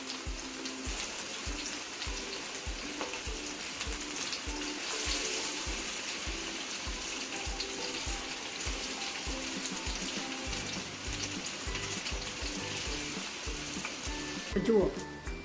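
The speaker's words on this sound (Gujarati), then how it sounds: "હવે આપણે આને ડીપ કરીને મરચાંને તળી લેશું" Chilli bhajiya fritters deep frying in hot oil, a continuous close bubbling sizzle with faint rhythmic clatter underneath and a brief louder utensil sound near the end.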